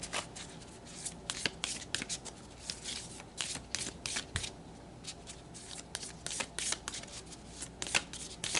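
A deck of circular oracle cards is shuffled close by, giving repeated papery riffles and soft slaps in uneven bursts, with no talking.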